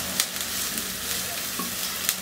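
Carrots and other vegetables stir-fried in a pan for spicy Chinese vegetable fried rice, giving a steady close sizzle with brief scraping stirs and a couple of sharp crackles, no voices.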